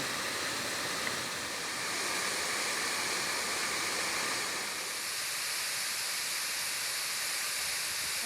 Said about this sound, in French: Mais la cascade, elle est bien.